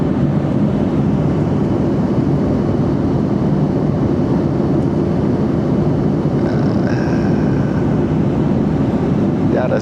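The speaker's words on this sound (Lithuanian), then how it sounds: "Skrendu į Antarktidą ir žiūriu vienas namuose." Inside an airplane cabin on a flight to Antarctica, a steady, loud broadband engine and air roar fills the space without pause, with faint higher tones drifting in near the end.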